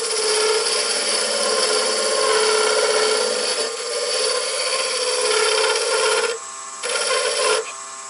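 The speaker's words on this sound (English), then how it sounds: "I'm going to get in here carefully, and I'm going to round this off slightly, so we match the other end a little better." A woodturning lathe tool rounds off the end of a wooden corkscrew, giving a steady, close, loud rasping scrape that holds for most of the stretch before briefly dropping away twice near the end.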